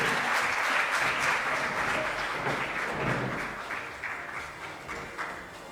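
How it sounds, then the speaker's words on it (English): Audience applause at a schools quiz round of 16 swells as a high school advances to the quarterfinals, a full, steady roar of clapping that eases slightly toward the end. "a big round of applause for Alexander Road High School"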